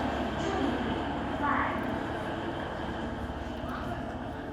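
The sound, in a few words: Alishan Forest Railway small mountain train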